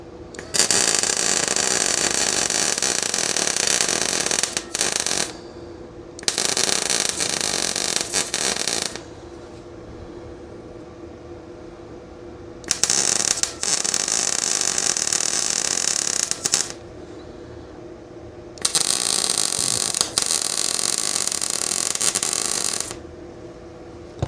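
Welding on a John Deere bumper comes in several bursts of loud, crackling, hissing sizzle, each lasting a few seconds and separated by quieter pauses with only faint background noise.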